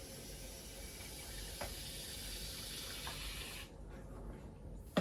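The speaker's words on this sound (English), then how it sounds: "So we'll top up our water bowl." Water poured steadily into the water bowl of a Vietnam giant centipede (Scolopendra dehanni) enclosure, a soft continuous trickling hiss that stops abruptly near the end.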